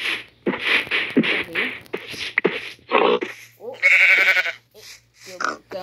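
Sheep in a Minecraft copy video game let out a series of short, separate bleats, some loud and close, interspersed with a person talking over the game.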